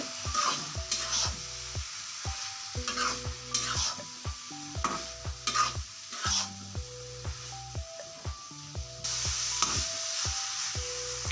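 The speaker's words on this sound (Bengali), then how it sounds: "এখন আমরা এগুলোকে ভালো করে নেড়ে মিক্স করে নেব।" Prawns and meat for chowmein being stirred and fried in a pan, a continuous sizzle broken by repeated scraping strokes of a spatula, close and steady throughout.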